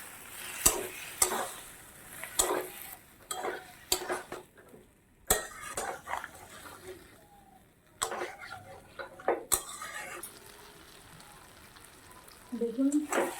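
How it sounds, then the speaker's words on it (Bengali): Masala loosened with a splash of water and stirred in a pan while cooking potol chingri, a Bengali pointed-gourd and prawn dish: scattered metallic scrapes and clinks over a soft sizzle, under talk. "হালকা একটু জল দেবো যাতে মশলাটা পুড়ে না যায়। ভালো করে এটা মিশিয়ে দেবো।"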